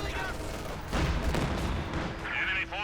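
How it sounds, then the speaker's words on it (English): Field gun and mortar fire in a Company of Heroes 2 match, a burst of heavy booming battle noise in the middle of distant war-game clamor, with a short horn-like tone near the end. "field gun barraging, adding in a bit of extra damage there for Aerohank's forces"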